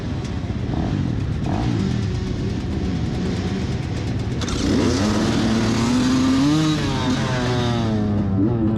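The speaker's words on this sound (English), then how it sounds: "one of the benefits of the two-stroke is it starts really fast." Two-stroke dirt bike at a motocross GP race in Wicomico Ride Park firing up and revving hard as the field takes off, a dense roar of several engines climbing in pitch as they race away.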